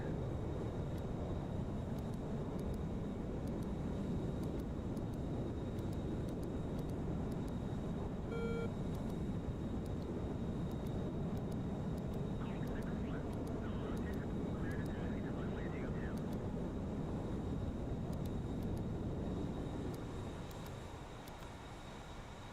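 F-14 Tomcat jet engines rumble continuously on a carrier deck in a flight simulation game, a loud, dense roar that holds steady before a launch and eases slightly at the end, with faint beeps in the background.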